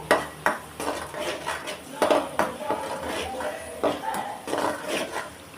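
Small shallots sautéing in a pan for a Tamil-style chicken fry, a metal spoon scraping and knocking against the pan in irregular strokes, fairly close and moderately quiet.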